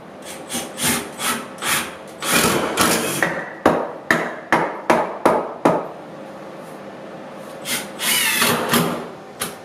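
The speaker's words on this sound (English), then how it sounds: "So I've got to mark that out and cut them and then screw them in." Timber supports for a composting toilet in a tiny house build being cut and screwed in: a run of sharp, evenly spaced woody strikes and rasps, with a longer sawing or driving stretch early and another near the end, close and fairly loud.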